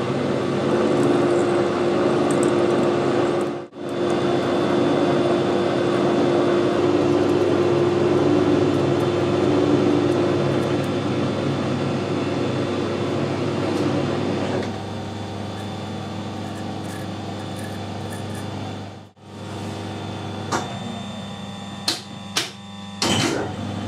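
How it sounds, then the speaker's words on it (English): A metal lathe cuts a left-hand internal ACME thread. A loud, steady machining drone runs with two brief dropouts, then shifts to a lighter hum with sharp intermittent clanks near the end. "reverse my lathe"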